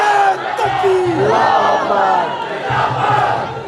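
A large crowd at a devotional naat gathering roars a religious slogan in unison, loud and close, with chanting bursts swelling and repeating across the moment.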